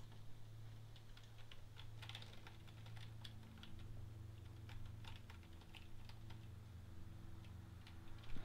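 Rapid computer keyboard taps and mouse clicks sound close but quiet during play of Bendy and the Ink Machine, irregular bursts of sharp clicks over a low steady hum.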